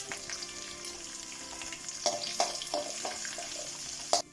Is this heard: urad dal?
yes